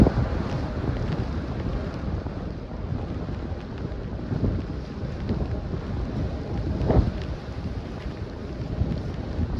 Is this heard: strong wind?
yes